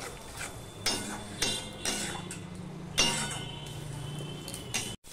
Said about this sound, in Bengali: দিয়ে মশলাটাকে আমি কষিয়ে নেব